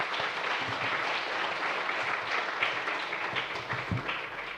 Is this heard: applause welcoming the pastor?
yes